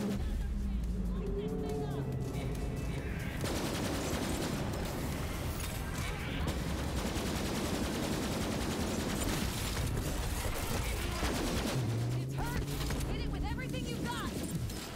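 Gunfire in the shooter Borderlands 3, continuous loud bursts and fusillades layered under game music and mechanical effects, with a player's voice talking over the action throughout.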